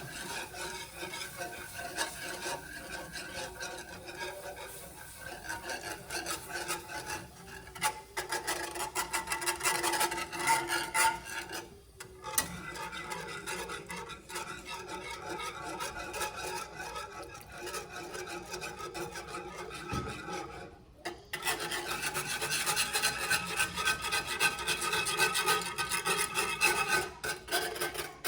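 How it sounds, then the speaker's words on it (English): A whisk scrapes and rasps continuously against the bottom of a pot, with brief pauses, close and fairly loud with no talking. "And I'm sorry for the scraping noise."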